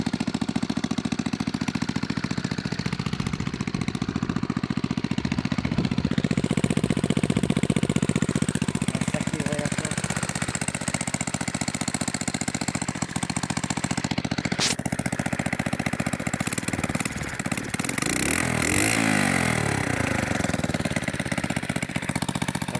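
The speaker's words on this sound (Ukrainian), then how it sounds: "Ось завів за кадром нічого не цокотить. Така стабільна робота." A Verkhovyna moped fitted with a 72cc Alpha engine idles steadily and evenly close by, with no ticking, as a continuous mid-pitched running note with slight shifts in tone near the end.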